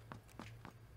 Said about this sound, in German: Ich habe schon wieder Schritte gehört